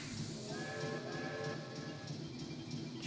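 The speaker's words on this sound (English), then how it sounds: "I think I heard the train arrive" Chuffy, the talking train from Banjo-Tooie on Xbox Live Arcade, rolls into the station, its chugging and rail clatter steady and moderately loud, with a long whistle-like tone holding over a low rumbling bed.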